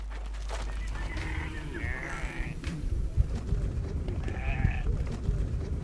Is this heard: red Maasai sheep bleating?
yes